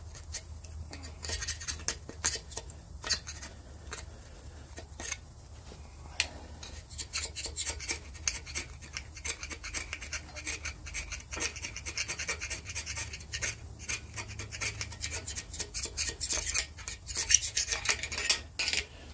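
A Goodson super scraper rasps and scratches gasket material off an engine block in irregular, rapid strokes, gritty and close, building in intensity toward the end with no speech.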